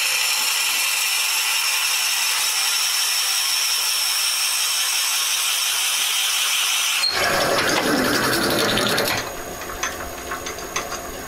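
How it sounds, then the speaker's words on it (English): Drill bit boring into a wooden lamp base spinning on a woodturning lathe: a loud, steady high-pitched whir that turns rougher and grinding partway through, then eases off near the end. "So we're going to drill this out."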